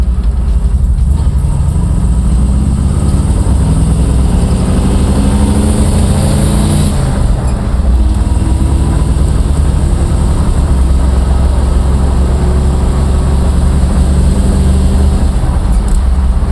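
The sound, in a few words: classic car engine driving, shifted into second gear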